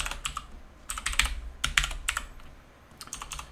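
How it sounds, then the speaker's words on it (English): Typing on a computer keyboard during 6502 retro game programming, with clusters of quick key clicks separated by short pauses, close and moderately loud, with no voice over it. "oh, come on, John, get typing properly"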